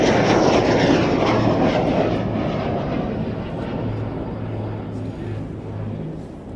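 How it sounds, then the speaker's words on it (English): Avro Lancaster and Avro Vulcan bombers flying past at an air display, a loud broad engine roar that is strongest at first and then eases slightly while holding steady, with a low droning hum beneath it. "The Vulcan catches up the Lancaster."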